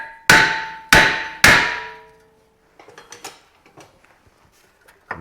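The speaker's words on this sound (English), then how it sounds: "Let's get the rotor off." Hammer striking a brake rotor on a Nissan to knock it off, three loud evenly spaced metallic clangs with ringing decay, then faint clinks and rattles, with no talking.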